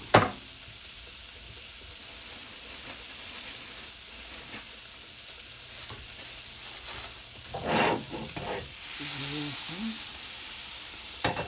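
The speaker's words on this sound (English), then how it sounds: "I'm going to go ahead and put some butter in our skillet, because I want our bread to get nice and browned" Butter sizzling in a skillet before rye bread goes in for a patty melt, a steady soft hiss throughout with a brief sharp knock at the start and a swell of louder frying and faint tones near the end.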